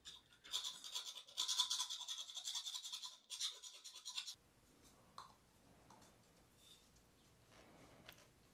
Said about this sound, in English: all that's left to do is take a file outside and on the inside as well